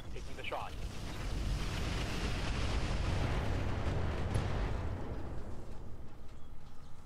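Weapons firing in the RogueTech BattleTech video game, a long, continuous rumbling volley of explosive blasts, loud and sustained before easing slightly toward the end.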